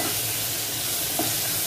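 Chopped onion frying in a pan for bitter gourd bhaji, stirred with a steady sizzle and light scraping, close and continuous for under two seconds with no voices.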